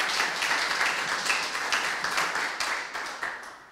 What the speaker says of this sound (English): so let's clap for Ralph Toomey as well.